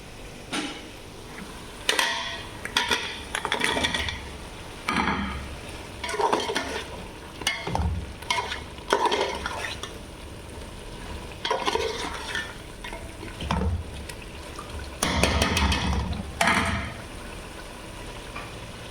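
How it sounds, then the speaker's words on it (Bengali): Okra sizzles and fries in a pan while a utensil stirs it in repeated bursts of scraping and clatter, close and fairly loud, with no talking. "এখানে দেখেন ভেন্ডি ভাজি করতেছি"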